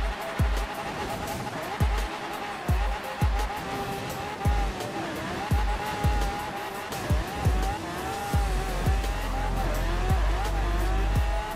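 Tire squeal and engine noise from a BMW X6 spinning its wheels in the racing game Forza Horizon 4, with repeated bursts of revving and skidding over a steady engine drone.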